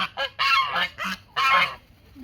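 Several geese honk loudly and insistently nearby, their harsh calls overlapping in repeated bursts.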